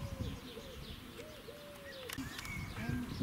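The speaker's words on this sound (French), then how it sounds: "Ça y va les tourterelles." Turtle doves coo softly outdoors in Sainte-Adresse near Le Havre, a few low rounded calls set against steady street and wind background, with faint chirps from other birds.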